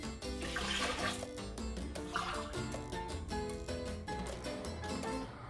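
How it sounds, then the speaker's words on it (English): Water poured from a measuring cup into a pot of washed red lentils, a faint continuous splashing. Music plays over it. "So I'll pour 2 cups of water here"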